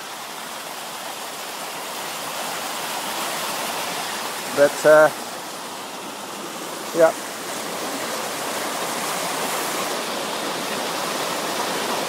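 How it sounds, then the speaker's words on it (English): Creek water running steadily along a trail, a continuous broadband rush that stays even throughout, with a few brief spoken words breaking in near the middle. "There's a fair bit of water in the trail. I mean, in the creek."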